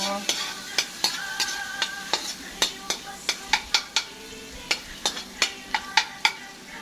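Garlic sautéing in a pan for a Filipino pinakbet, with a soft continuous sizzle broken by a steady series of sharp clinks and taps from a utensil stirring against the pan, close and fairly quiet.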